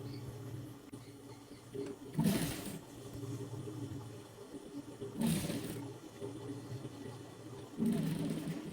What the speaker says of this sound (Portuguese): Agora a gente passa aqui uma costura aonde a gente riscou